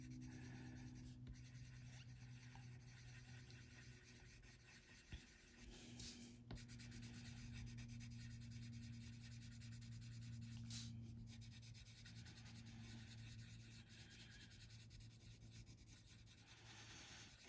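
A colored pencil blender rubs back and forth on toothy paper, a soft, faint, continuous scratchy scrubbing close by with brief pauses and small knocks, against a low steady hum and no talking.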